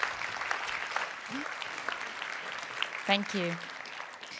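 Warm audience applause for a speaker at an energy and decarbonization conference, a soft, fairly distant wash of clapping that carries on under a brief spoken thanks near the end.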